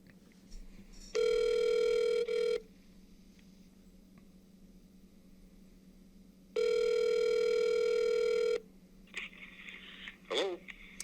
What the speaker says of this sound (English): So let's get Ray on the phone here.